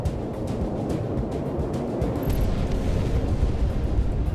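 A dense, sustained rumbling roar of a bomb explosion in the flight game Project Wingman, loud and steady with no voices.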